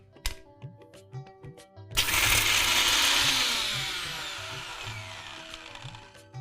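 A few light taps and clicks, then a mixer grinder crushing garlic and peanuts roars to life loudly for several seconds, its whir gradually winding down as it spins to a stop.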